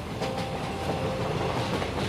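A fast-moving train rushes along in a narrated story, with a continuous loud rumble and rhythmic wheel clatter on the rails and no voices.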